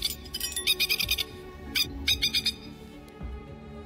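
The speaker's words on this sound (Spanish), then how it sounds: "La mamá pájaro sigue cantando alrededor de la alcantarilla." A mother bird calls around a storm drain where her chick has fallen, giving loud, sharp chirping bursts in quick rhythmic clusters, close by with short pauses between groups.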